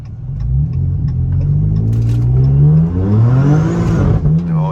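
A boosted 3.6 engine car revs hard and spins its tires, a loud, sustained rising engine roar with a whirring tire squeal, close and alone.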